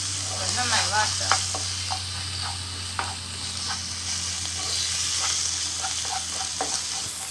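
Chopped onion sautés in a pan: a continuous close sizzle broken by repeated clicks and scrapes of a spoon stirring, with a voice briefly heard.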